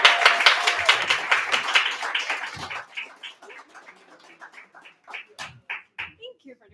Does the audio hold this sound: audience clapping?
yes